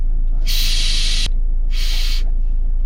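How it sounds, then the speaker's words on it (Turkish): Car air suspension being adjusted lets out two sharp bursts of hissing air, each about a second long, loud and close over a low idling hum. "Ama öncelikle air süspansiyonumuzu ayarlayalım."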